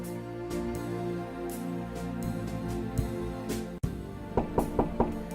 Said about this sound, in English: So polite of her to knock.